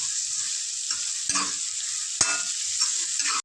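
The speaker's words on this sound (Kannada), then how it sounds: "ಈರುಳ್ಳಿ ಹಾಕ್ತೀನಿ ನೋಡಿ ಎರಡು ಉದ್ದುದ್ದ ಹಸಿಮೆಣಸಕ್ಕೆ ಕಟ್ ಮಾಡಿ ಇಟ್ಕೊಂಡಿದ್ದೆ ಅದನ್ನು ಹಾಕ್ಬಿಡ್ತೀನಿ" Onions and slit green chillies frying in oil for mushroom biryani, a loud continuous hissing sizzle up close, broken by two brief scraping stirs with no voices.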